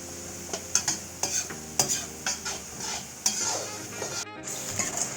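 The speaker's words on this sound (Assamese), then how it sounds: "এতিয়া লৰাই লৈছে।" Dal cooked with outenga (elephant apple) is stirred in a pot, a spoon scraping and clinking in a rhythmic series of about ten strokes over a soft sizzle, close by and with no talking.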